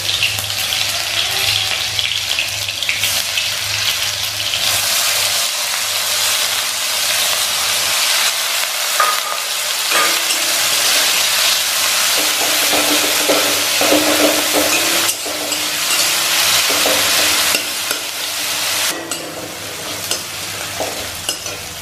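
Tomato, green chili and onion fry in hot oil for noodles, with a loud, continuous hiss and crackle and occasional stirring scrapes throughout.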